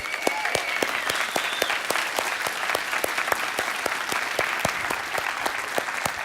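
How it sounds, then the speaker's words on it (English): A crowd at an on-stage presentation gives itself a big round of applause, with thick continuous clapping and a few sharp, distinct claps standing out near the front over the steady roar. "Give yourselves a big round of applause for being here."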